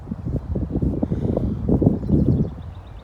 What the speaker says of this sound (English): Kind of windy right here. Wind. Gusts.